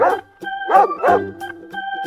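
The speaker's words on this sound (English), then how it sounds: "dog, Dog." A dog gives a series of close, loud barks, several sharp woofs spaced unevenly with short gaps between them.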